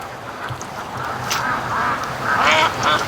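Free-range ducks quacking during their morning rush in a yard, several overlapping calls rising in number and loudness toward the end over a soft outdoor background.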